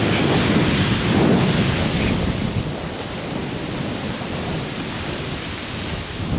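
Strong wind gusts roar over the North Thompson River around a Solar 470 Super Jet boat, a dense, steady rushing noise buffeting the microphone, loudest early on and easing slightly, with no talking.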